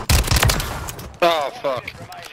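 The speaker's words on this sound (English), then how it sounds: "But this is a minigun. And it's super fast, bro." Rapid bursts of Fennec gunfire in a video game, a dense crackling volley up front followed by short bursts, with voices talking over the shooting.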